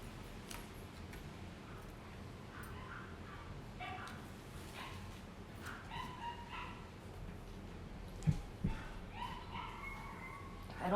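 A neighbor's dog yips and barks at a distance in scattered short bursts, faint against quiet background noise with a few soft ticks and no clear talk.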